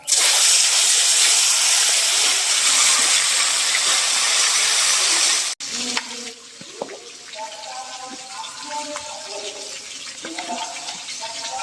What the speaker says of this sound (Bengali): এবার বাকি মাছগুলো আবার তেলে দিয়ে দেবে।